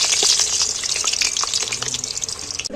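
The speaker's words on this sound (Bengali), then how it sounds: "আলুগুলো একটু তেলে ভেজে নিচ্ছি" Potatoes fry in oil with a bright, steady sizzle and scattered pops that carry through the whole stretch at close range, and a soft knock near the end.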